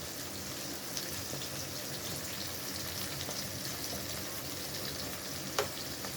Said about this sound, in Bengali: এগুলো একটু হালকা ফ্রাই করলেই হয়ে যাবে।